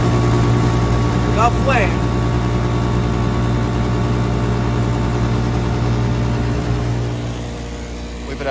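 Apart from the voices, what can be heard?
loud inducer fan on rooftop gas heater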